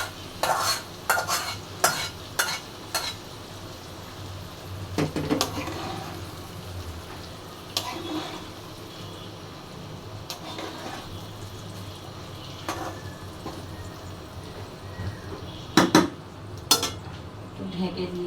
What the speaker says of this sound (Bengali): অনেকক্ষণ ধরে ভেজে নিচ্ছি।